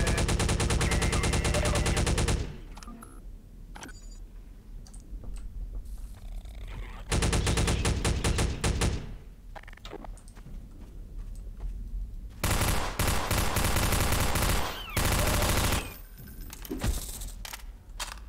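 Automatic weapon fire from a Half-Life 2 mod comes in long, loud, dense bursts. Each burst is separated by quieter stretches of scattered shots and clatter.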